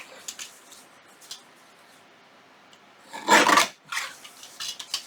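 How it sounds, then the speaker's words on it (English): A paper guillotine trims a tracing paper booklet cover: one loud, short slicing rasp of the blade through the sheet, then a few softer scrapes and taps of handling. "I'm going to bring in my guillotine and I'm just going to trim this up the best I can here"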